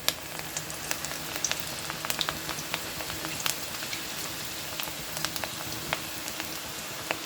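Cabbage and onion pakoda dough pinched into hot oil fries with a steady dense crackle and sizzle, fine pops scattered evenly throughout, close and continuous.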